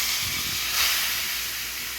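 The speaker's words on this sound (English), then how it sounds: "get this steak on to get one side of it seared really well" Steak sizzles loudly in a hot cast iron pan, a broad, steady hiss that swells briefly as the meat settles, then holds at a constant sear close by.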